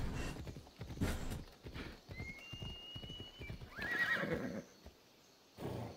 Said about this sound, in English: While my horse is running around.